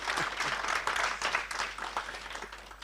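Conference audience clapping in a steady, dense burst of applause, moderately loud and sustained throughout without talk over it.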